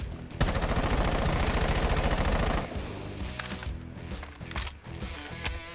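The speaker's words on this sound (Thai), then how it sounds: "นี่คือ AK เนาะ ผมจะลองยิงแบบไม่คุมก่อน" An AK rifle in Rainbow Six Siege emptied in one long uncontrolled automatic burst, loud and dense, followed by scattered shots, clinks and game noise.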